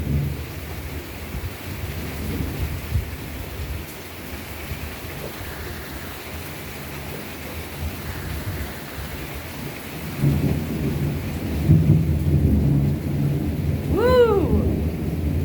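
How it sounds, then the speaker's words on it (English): Heavy rain pours steadily through a Florida thunderstorm in Boynton Beach, with deep thunder rumbling low throughout and swelling louder near the end, then a brief high whistle-like chirp. "Here comes the thunder."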